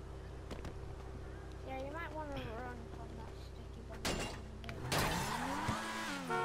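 Progen GP1 supercar in GTA V, engine idling low with short revs and rising tone sweeps, a door thud, then a louder burst of acceleration near the end with faint tire noise; a voice is heard briefly.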